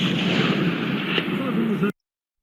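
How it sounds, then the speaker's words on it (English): A single 30-06 rifle gunshot, a loud close blast whose boom and rumbling echo carry on for nearly two seconds before cutting off abruptly. "let's then take a look at the sound of a 30-06"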